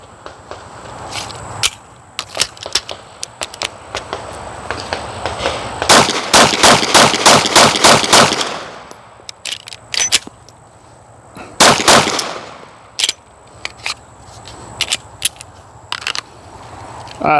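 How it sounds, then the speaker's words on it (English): Shots fired at an outdoor shooting range with faulty, poorly feeding ammo during a range day: sharp, loud cracks, some single and irregular, others in rapid strings, broken by pauses and faint handling clicks. "Shooting some fucked up ammo today"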